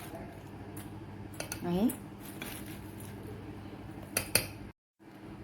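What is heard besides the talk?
spoon clinking while stirring cocoa and sugar into milk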